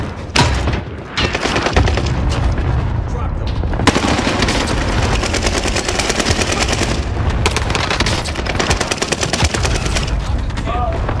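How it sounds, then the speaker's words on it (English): Air strike explosions and dense automatic gunfire in a video game erupt loud and close, with booming blasts and rapid bursts running almost continuously under the player's voice. "Marking air strike target."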